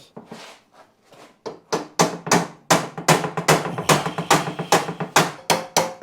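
A wooden mallet tapping a part on a Suzuki GSX1100 Turbo motorcycle, starting with a few soft, sparse knocks and building into a steady run of sharp, fairly loud strikes at an uneven rhythm, with no talking.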